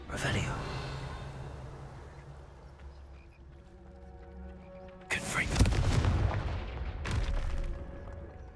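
In the Hogwarts Legacy video game, a Confringo fire spell lets out a sudden loud booming blast followed by a crackling roar. A second, shorter burst comes soon after, over quieter game ambience with tonal background sound.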